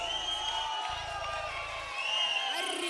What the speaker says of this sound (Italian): signori e signori, re e la regina,